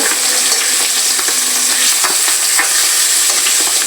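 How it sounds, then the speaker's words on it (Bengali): Pangas fish pieces fry in hot oil, producing a loud, steady, crackling sizzle that runs throughout with a few faint pops and no voices. "তো মাছটা ভেজে নেই"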